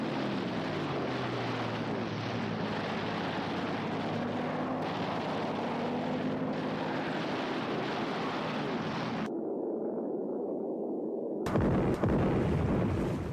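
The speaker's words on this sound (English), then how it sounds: "engaging in furious air fights with the Zeros, which desperately attempt to provide air cover, while the vessel tries to evade the bombs" Air combat rages around the Japanese aircraft carrier Hiryu as Zero fighters dive overhead and bombs burst nearby, a dense roar of engines and rumbling blasts that cuts out briefly to silence before the loud din resumes.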